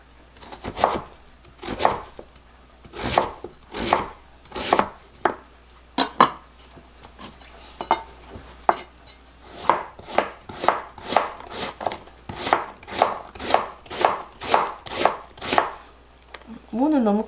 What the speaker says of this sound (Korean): 무는 있으시면 조금 썰어 볶아내고 싶습니다